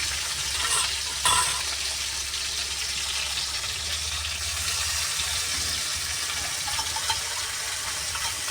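Red chili tempering (tadka) sizzling and frying in hot oil, a steady close crackle running throughout with a brief sharper burst early on.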